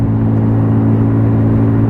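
AJS Modena 125cc scooter engine pulling up a hill, a steady, loud mid-pitched drone with a throaty hum that holds an even tone throughout, no voices over it.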